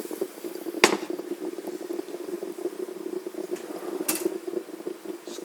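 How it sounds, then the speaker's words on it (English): Strong coffee poured into lemon lime carbonated water in a mug: a steady fizzing, bubbling pour runs throughout, with two sharp clinks standing out. "Then after that, you pour in the strong coffee."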